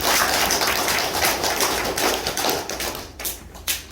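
A lecture audience applauds after a former lawmaker's talk on Korean unification, a dense burst of clapping that thins out into scattered claps near the end.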